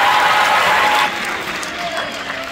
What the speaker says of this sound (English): One more round of applause for all these amazing band students.